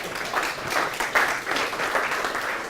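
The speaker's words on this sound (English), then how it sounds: "So I think that deserves a round of applause." An audience at a university alumni weekend presentation applauds steadily, a dense, even wash of many hands clapping together with no talking over it.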